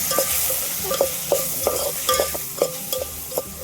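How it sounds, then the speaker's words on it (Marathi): Peas with spices and salt are stirred and sautéed in a pan, a spoon scraping in a steady rhythm of distinct strokes over a soft background sizzle, close and clear with no talking. "आता चवीपुरतं मीठ टाकून देऊ आता परतून घेऊ मस्त सर्व साईडला"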